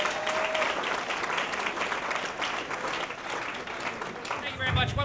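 A comedy-club audience on Christmas Eve applauds as comedian Avi Liberman is welcomed to the stage. The crowd noise is a dense, continuous wash of clapping, and a voice talks over it.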